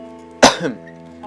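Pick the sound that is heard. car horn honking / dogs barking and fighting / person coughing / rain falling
person coughing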